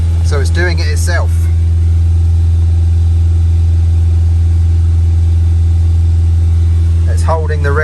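Ford Transit Custom diesel engine holding raised revs by itself during DPF regeneration, a loud steady hum from start to finish, with a person talking briefly near the beginning and again at the end.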